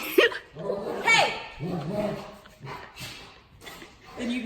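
Dogs bark and yip in short, sharp bursts close by, mixed with a person talking over them indoors.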